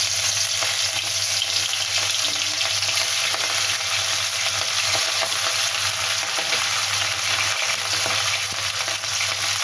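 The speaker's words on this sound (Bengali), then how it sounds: "মাছে হলুদ লবণ মাখিয়েছি, মাখিয়ে আমি ভাজতে দিচ্ছি" Turmeric-and-salt-rubbed fish fries in hot oil for a Bengali fish curry, giving a loud, steady, dense sizzle that crackles without pause throughout, with no talking.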